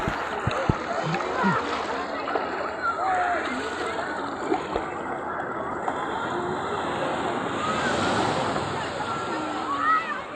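Sea waves washing in at Digha beach during ebb tide, a continuous broad wash of surf and splashing close by, with people talking and calling out over it throughout.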